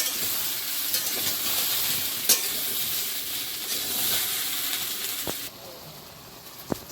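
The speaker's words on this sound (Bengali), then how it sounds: "মশলা কষানো হতে হতে কচু আরও ভাজা হয়ে যাবে" Loud, steady sizzling of taro and spices frying in a pan, with occasional scraping clicks from stirring; the hiss drops noticeably toward the end.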